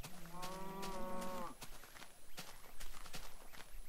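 A cow moos in the Minecraft video game, a single drawn-out low call in the first half, with footsteps and game sounds around it.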